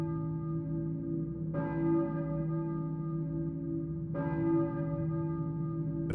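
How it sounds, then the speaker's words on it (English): A church bell tolls in the video game Silent Hill, two loud, resonant strikes roughly two and a half seconds apart, each ringing out with a long humming decay that carries into the next. "I hear a church bell, maybe."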